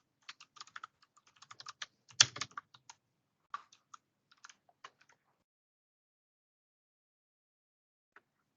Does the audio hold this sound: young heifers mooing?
no